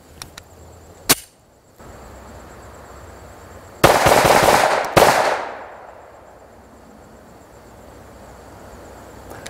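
Rapid 9mm pistol fire outdoors in an XD-M versus Hellcat shootoff: one sharp crack, then a tight, loud burst of shots followed by another report, with a fading echo and no talking.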